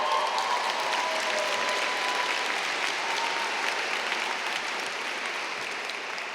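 Sustained audience applause at a college recognition ceremony, a steady dense wash of clapping that holds evenly throughout and tapers slightly at the end, with no voices over it.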